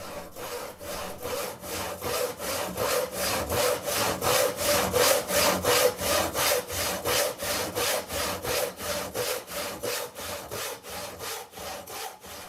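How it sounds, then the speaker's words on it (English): A hand saw cuts through a wooden 2x4 in steady back-and-forth strokes, each rasping pass close and clear, keeping an even rhythm from start to finish. "recorded my neighbor as he sawed a piece of 2x4"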